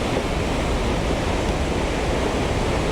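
Powerful river water thunders out of the Huka Falls outlet in New Zealand, a constant close roar of churning current that stays level throughout with no talk over it.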